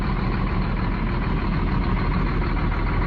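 A parked coach's engine runs steadily at close range, a dense low rumble with no breaks for the whole stretch.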